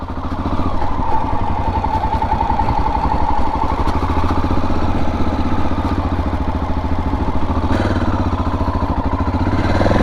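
The engine of a 1987 Honda XL600R motorcycle runs with a steady, rapid, clattering single-cylinder pulse, close and even throughout, with no voices.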